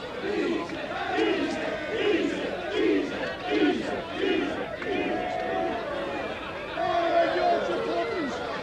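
Wigan rugby league supporters roar and chant at the 1985 Charity Shield match against Hull KR as the players are presented. Cheering rises and falls in waves of massed voices throughout, loud and fairly close.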